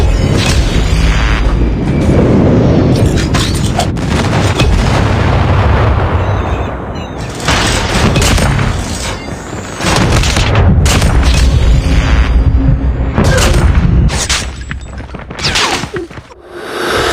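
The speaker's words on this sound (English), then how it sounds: "Friendly airstrike incoming." Airstrike explosions in Call of Duty Mobile boom repeatedly over about seventeen seconds, loud rumbling blasts overlapping in quick succession with brief dips between volleys.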